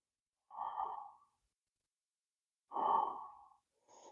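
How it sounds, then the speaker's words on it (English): Slow, deep breathing during a chair yoga stretch, two long audible breaths close to the mic separated by a quiet pause, then the start of a third, with no talking. "A couple more breaths here."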